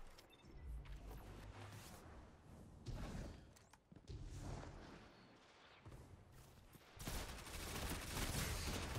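Pulse rifle and SMG fire in the Destiny video game: dense, repeated bursts of gunshots at close range, loud and sustained, with short lulls between volleys and no talking.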